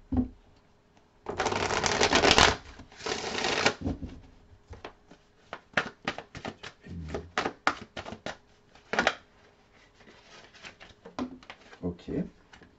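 Tarot cards are shuffled in quick bursts of riffling and flicking, with longer runs at the start and then many short separate snaps, loud and close, while a person talks quietly in between.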